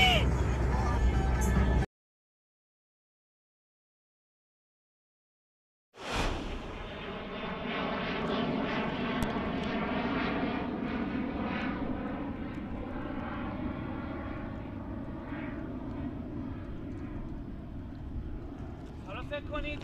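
A passenger airplane flies overhead near a passenger airport, its engine roar loud, broad and steady for about fourteen seconds after a short stretch of silence, with voices heard alongside it.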